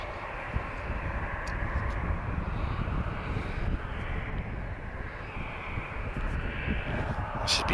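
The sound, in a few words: Azores Airlines Airbus A321neo arriving at Lisbon airport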